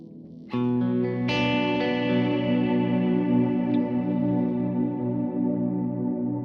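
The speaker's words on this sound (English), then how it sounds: "The highs that are in the decay, in the reverb, but they duck out and I'm left with this lower bellow." Electric guitar played through a Kemper amp's reverb: a picked note, then a fuller chord struck a moment later, ringing out loud and sustained as the bright upper shimmer fades and a low, bellowing tail lingers.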